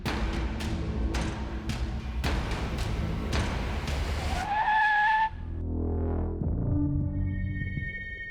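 A car driving steadily over a rhythmic backdrop, then braking hard with a rising tire squeal before the engine settles into a lower hum.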